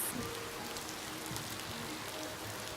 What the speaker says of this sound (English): The sound of rain is so soothing